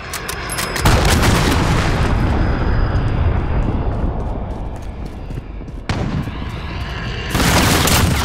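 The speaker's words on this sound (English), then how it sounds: "Allied cruise missile away." A cruise missile strike in Modern Warfare lands as a loud, sustained explosive roar that rumbles for several seconds, cuts off, then bursts again near the end.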